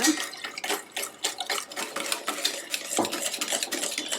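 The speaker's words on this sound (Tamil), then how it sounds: "இப்போ நல்லா விஸ்க் வச்சு நல்லா அடிச்சுக்கோங்க." Milk being whisked into maida biscuit batter in a bowl, a quick steady run of soft wet sloshing strokes with light clinks of the whisk against the bowl, close and fairly quiet.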